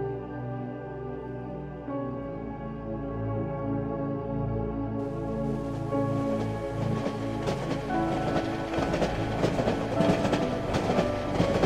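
Inside the video game Cry of Fear, a moving train rumbles steadily with rhythmic clickety-clack of wheels on rails, joined partway through by the hiss of rain and a low tonal hum, loud and continuous.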